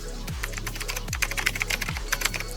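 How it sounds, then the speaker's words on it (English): Loud computer keyboard typing, rapid close clacking keystrokes in quick bursts over a low electronic hum, with no talking. "I took some stupidly loud keyboard clacking sounds."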